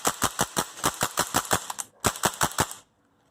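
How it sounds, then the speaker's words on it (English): Umarex Tactical Force CQB CO2 airsoft rifle fired semi-auto as fast as possible: a quick, roughly even string of about fifteen sharp snapping shots, a short pause, then six more before it stops, loud and close. "I'm just going to give you a few semi-auto shots here."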